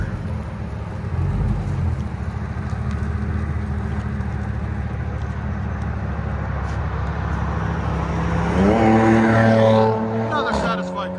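A Chevy Silverado SS with a 6.0L V8 and a Carbon R exhaust rumbles at a steady low idle under wind noise, then revs up sharply near the end before settling back down.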